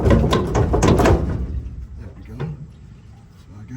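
A bolt being worked out of a hole in a Chevrolet C10 truck frame, with a burst of metallic clanking and rattling at first, then quieter scraping and knocks.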